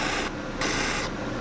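A hand tool rasps back and forth against the edge of a wooden sign, two strokes of broadband scraping with a short pause between, close and moderately quiet.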